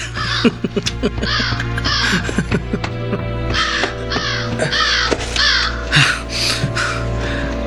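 A crow caws repeatedly in harsh, rasping calls spaced about a second apart, loud and close, over a steady low background drone in a radio drama scene.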